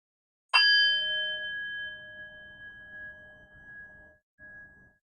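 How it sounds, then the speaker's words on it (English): A meditation bell is struck once, ringing out with a bright clear tone that rings on and slowly fades over several seconds, close and alone in otherwise quiet surroundings. "in just a moment I will ring the bell, ending our first round of meditation"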